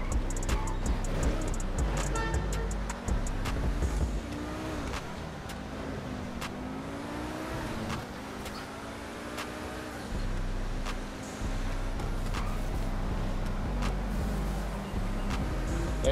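A car cruises in the GTA 5 video game at sunset near a bridge, giving a steady engine drone with gentle pitch rises and falls as it drives on, loud and continuous with no talking.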